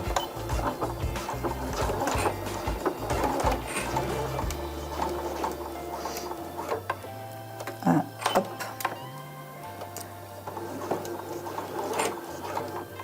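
A sewing machine stitches jersey sweatshirt fabric with a size 90 needle, its motor whirring in steady runs that shift pitch and pause, with light mechanical ticks and patter close by.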